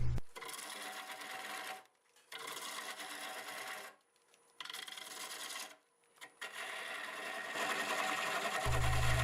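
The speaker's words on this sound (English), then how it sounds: "I just switched back to the half-inch bowl gouge. It's cutting pretty decently right now." A half-inch bowl gouge cuts black walnut with crisscrossed crotch grain on a wood lathe, giving a steady loud rasping hiss in several long passes separated by brief pauses, with a low hum entering at the end.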